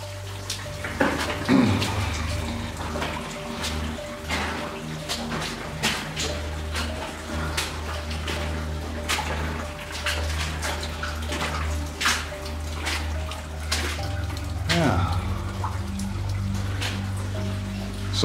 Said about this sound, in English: there are your tracks with the water just rushing down